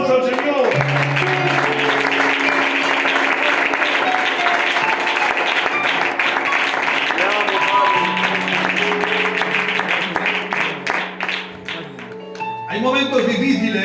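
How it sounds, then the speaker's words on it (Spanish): Church congregation applauding during a Spanish-language worship service, a dense steady wash of clapping with music and voices running beneath, easing off near the end before rising again. "Puedes darle un aplauso al Señor"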